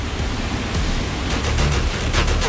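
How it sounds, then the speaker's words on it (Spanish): A waterfall seen from a hiking trail gives a steady broadband rush of falling water, loud and constant, with no voices. "Desde aquí se ve padrísima la cascada."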